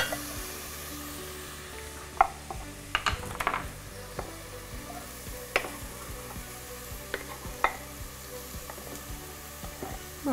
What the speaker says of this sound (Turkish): hafif şeyli olduğu zaman soğanını atıyorum ben içine